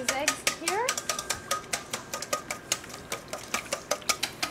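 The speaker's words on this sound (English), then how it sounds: "we're whisking the 2 whole eggs and 6 egg yolks" Two whole eggs and six yolks are whisked briskly in a bowl, a rapid even series of close clicking taps against the bowl at a steady rhythm, with a brief voice-like sweep near the start.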